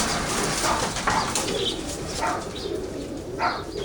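A blue bar white roller pigeon, a stock bird nearly two years old, gives soft repeated coos with a few chirps and occasional wing flaps, fairly close and clear against a quiet outdoor background.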